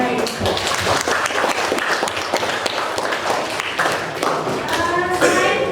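A classroom audience of students claps together in dense, steady applause lasting throughout, with voices talking over it.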